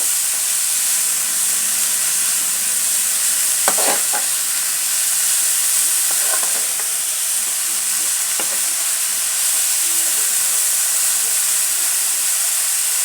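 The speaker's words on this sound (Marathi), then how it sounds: "थोडा मोठा गॅस केलेला आहे त्याची छान परतून घ्यायची" Dal methi with fenugreek leaves sautés over a high flame, a loud, constant frying hiss with a few scattered clinks and scrapes of stirring, close by.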